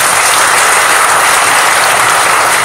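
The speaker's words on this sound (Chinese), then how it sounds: "我们拍手来欢迎今天分享的团队" Loud, dense applause from a church workshop audience welcoming a team, sustained and even clapping filling the room without voices.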